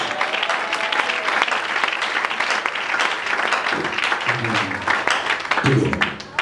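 A church congregation claps and cheers through a New Year worship service, a dense, steady wash of applause filling the room, with some lower crowd voices swelling near the end.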